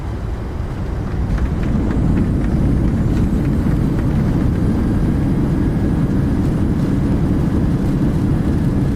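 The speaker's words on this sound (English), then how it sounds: "Reversers are out." Thrust reversers on a simulated PMDG 737 landing at Innsbruck, a loud sustained low jet roar that swells slightly and holds steady, no voices.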